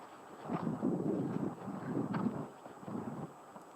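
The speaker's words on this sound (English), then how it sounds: "So windy." Gusty wind buffets the microphone in rough, rumbling bursts that rise and fall over a few seconds.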